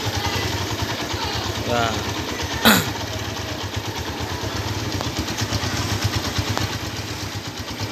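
A 2008 Honda Tiger Revo motorcycle engine idles close by with its choke still up, giving a steady, even throb, with a person talking over it.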